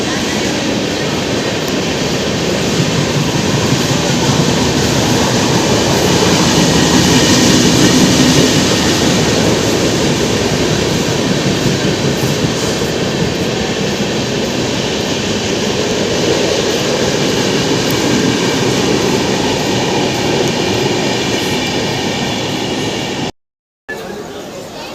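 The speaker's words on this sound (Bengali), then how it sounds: "পুরী শালিমার শ্রী জগন্নাথ এক্সপ্রেস।" The Puri Shalimar Sri Jagannath Express rolls past with a continuous loud rumble and wheel roar on the tracks, steady throughout with a brief dropout near the end.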